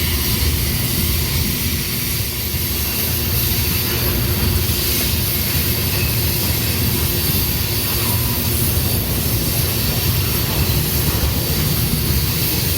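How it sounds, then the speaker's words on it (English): A DART light rail train pulls out and departs through Dallas, a steady broadband rumble with continuous low-end roar and high hiss holding level throughout, no talking heard. "There goes the D.A.R.T headed out."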